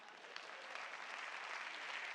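Comedy club audience applauding, a faint, even spread of clapping that holds steady without talk.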